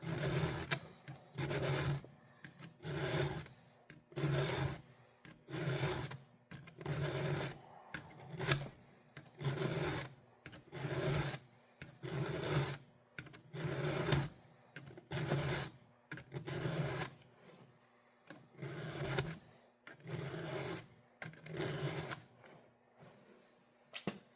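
A hand file sharpening chainsaw teeth, rasping in steady, evenly spaced strokes roughly once a second, close up and clear with no talking.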